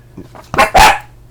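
A dog lets out one or two loud, close barks indoors, preceded by a few soft, low whines or grumbles.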